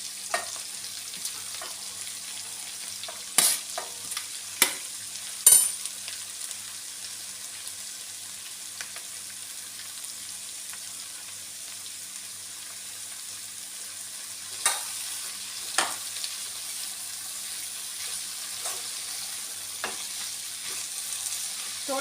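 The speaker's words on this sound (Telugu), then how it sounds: "తోటకూర వేసుకొని కలుపుకొని" Amaranth leaves frying in a pan with onions and green chillies, a soft steady sizzle with occasional sharp scraping clinks as a spoon stirs, faint and without talk.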